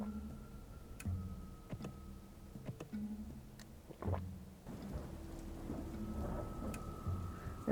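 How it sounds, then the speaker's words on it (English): Rain falls steadily in the game Dustland Delivery, a soft, faint patter with occasional louder ticks and drops and a low rumble that swells midway. "Hey, it's raining."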